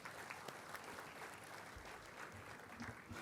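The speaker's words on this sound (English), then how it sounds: "Let's have a big round of applause for the sir." Audience applause for the speaker at a seminar on the 2024-25 Finance Bill, a dense, even patter of many hands clapping, faint and distant, steady for the whole stretch.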